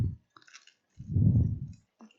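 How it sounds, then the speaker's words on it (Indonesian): Nuts crunching while someone chews a slice of mocca nougat cake, a brief crackle at the start and then a louder, dense burst of close chewing crunches lasting about half a second, with faint clicks between. "Bunyi kacangnya tuh rame ya Chef."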